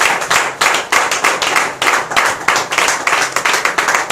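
A church congregation clapping loudly in a steady, driving rhythm, many hands together, sustained and close, with no talking over it.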